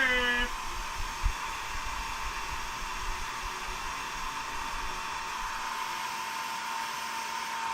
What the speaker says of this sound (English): Oh, hair dryer.